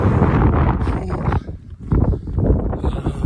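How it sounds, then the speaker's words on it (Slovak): Strong wind gusts buffet the microphone on a mountain hike up Veľký Kriváň, a loud continuous roar that dips briefly midway before surging back, with no other sounds standing out. "hrozné tu fúka, extrémne"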